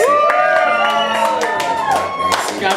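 A comedy show crowd cheers and whoops loudly, with voices shouting over scattered claps in a lively, close burst.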